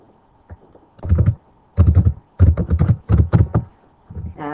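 Keys on a computer keyboard clatter in quick bursts of typing separated by short pauses, close and clear with no talking.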